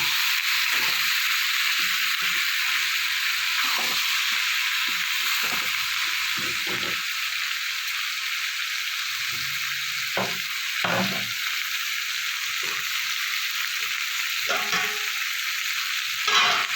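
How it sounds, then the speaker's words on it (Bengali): Kundru (ivy gourd) frying in a pan with spices, a continuous close sizzle broken by repeated scraping stirs of a spoon against the pan, with no speech. "দিয়ে সমস্ত মশলাটা একসাথে মিশিয়ে নেব"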